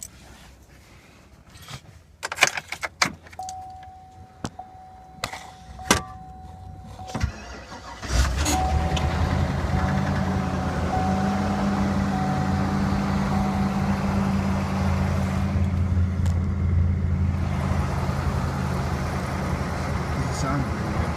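A 2011 Chevy 3500HD gas truck starts cold at -25 after two weeks sitting: a few clicks and a brief crank, then the engine fires and settles into a steady loud idle, with a person talking nearby.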